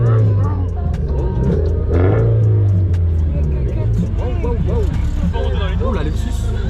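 A Lexus engine revving in a car park, a loud steady rumble with rising and falling pitch sweeps, heard under excited chatter and voices nearby.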